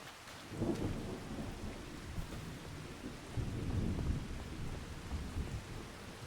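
Thunderstorm with rain in the farming game Farming Simulator 25: a low rolling rumble of thunder swells and fades over a steady wash of rainfall, heard alone without voices.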